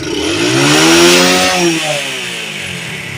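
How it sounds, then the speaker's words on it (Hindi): A motorcycle engine revs up close, climbing in pitch to a loud peak and then easing back down toward idle, alone with no talk. "अब मैंने बाइक पे रेस देनी है"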